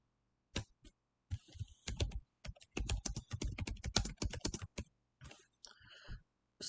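Typing on a computer keyboard while entering a name in a Tableau Desktop editor field: crisp, close key clicks in uneven bursts with short pauses, alone in a quiet room.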